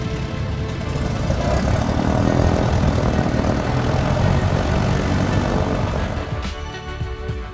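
A propeller airplane at an airport flying clinic drones loudly and steadily, with a dense engine roar that eases slightly near the end.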